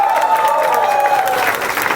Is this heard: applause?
yes